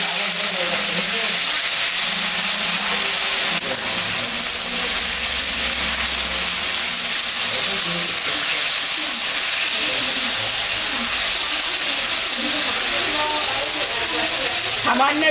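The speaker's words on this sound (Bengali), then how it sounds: "এখন মাছটা আমি দিয়ে দেব।" Spice-coated fish hitting hot oil with green chilli, dried chilli and nigella seeds in the pan, a loud, dense, continuous sizzle and hiss up close that lasts throughout.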